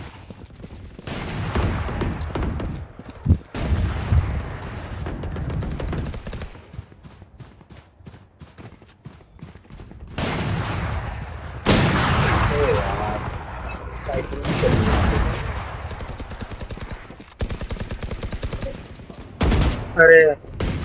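Gunfire from the video game Valorant crackles in rapid bursts and scattered single shots, sharp and fairly loud, repeating throughout while a player talks excitedly over the action.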